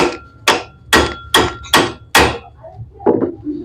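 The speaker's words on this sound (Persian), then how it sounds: "خب بعد با چکش ضربه میزنم، این میره پایین" A hammer taps a shaft down into the bearing of a mini angle grinder during repair at home: six sharp, evenly spaced metallic blows about half a second apart, loud and close, then two lighter knocks.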